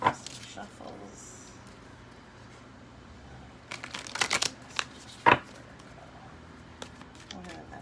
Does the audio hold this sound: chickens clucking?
no